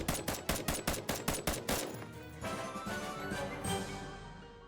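Rapid bursts of video game gunfire ring out, about a dozen sharp, evenly spaced shots in quick succession, then give way to a busier wash of game sound effects.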